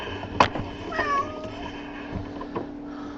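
A pet cat meows a few times indoors, short nearby calls with one drawn-out tonal meow, fairly quiet over a steady background hum, with no talking.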